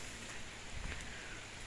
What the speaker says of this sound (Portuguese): É muita chuva aqui, pessoal.